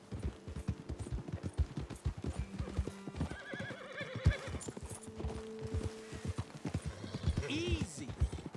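Several horses clip-clop along at a walk, hooves thudding steadily, while a whinny rises mid-way and another neigh near the end, with people talking over the hoofbeats.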